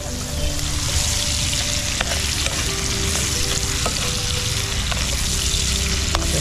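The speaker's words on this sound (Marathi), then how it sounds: "कांदा लसूण मिरची टाकलेला आहे. त्याला शिजू देऊया." Onion, garlic and chili frying in a pan at an outdoor beach cookout, giving a steady, close sizzle with occasional stirring clinks throughout and no talk.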